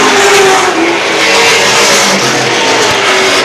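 Late model race cars roaring around Star Speedway in a feature race, a loud continuous engine drone with shifting pitches as several cars run close together on track.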